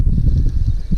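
Low, steady rumbling wind buffeting outdoors, constant and fairly loud throughout the short moment, with no voices.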